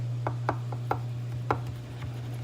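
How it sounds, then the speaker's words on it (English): A knife cuts a small piece of baked broccoli cheese cornbread, giving about seven sharp, quiet crunchy strokes in an uneven rhythm over a steady low hum, with no voices. "So we're just gonna take and cut just a little piece like that"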